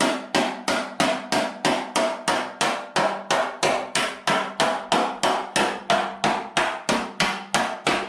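Steady light hammer taps knock dents out of a Lambretta GP scooter's metal side panel, about two blows per second in an even rhythm, close and alone.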